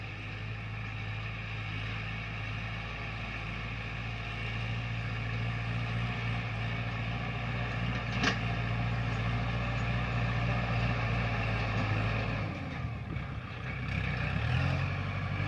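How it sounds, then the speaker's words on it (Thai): A Kubota L5018 50-horsepower diesel tractor engine idles steadily at close range, a low continuous rumble with a brief shift in tone near the end; no voices. "มาดูรถไถคูปตาเอลห้าศูนย์หนึ่งแปดะครับ นี่ครับห้าสิบแรงม้านะครับ"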